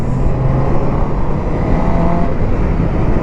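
A Honda CBR1000RR Fireblade motorcycle pulls hard with a loud, continuous engine roar mixed with heavy wind rush, sounding close and steady throughout.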